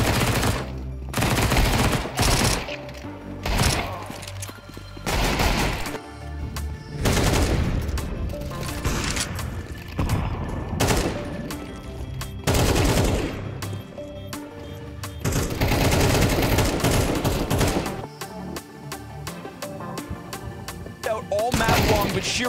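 Counter-Strike 2 gunfire in a BLAST Fall Final 2024 match, including Galil rifle sprays and a shotgun: loud, dense bursts of rapid shots come in repeated clusters with short gaps, mixed with other game sounds and no talk.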